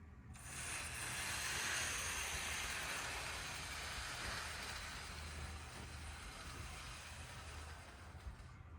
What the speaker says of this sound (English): I moved the train outside of the bridge here. Let's see if I can make it go the rest of the way.